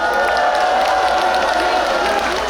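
A political rally crowd in Suncheon applauds and cheers as a young city council member is welcomed to the stage, a continuous wash of clapping and shouts that fills the whole moment.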